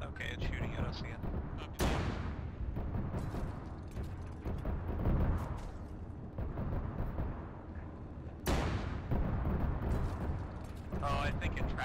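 Enemy BMP infantry fighting vehicle firing on a tank crew, with heavy booming shots at about 2 and 8.5 seconds over a constant loud engine and battle rumble, crew voices talking throughout.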